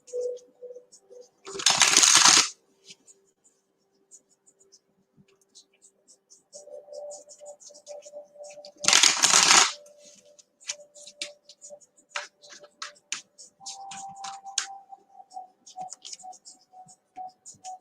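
Reading cards are shuffled by hand in two short, crisp bursts several seconds apart. Quiet tapping and faint tonal sounds fill the gaps between them.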